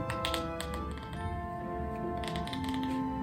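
A waxy playing card is run along an edge, giving a rapid series of small clicks that cluster in short bursts over a steady background hum.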